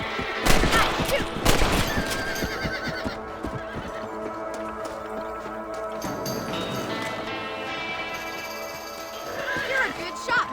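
Horses in the Red Dead Redemption video game whinny and neigh loudly several times alongside hoofbeats and distant gunfire, with people talking over the scene.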